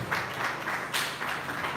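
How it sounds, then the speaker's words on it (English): Audience applause at a crime reduction and prevention security summit, a steady wash of many hands clapping throughout the short stretch, moderately loud and unbroken, with no voices standing out. "A round of applause."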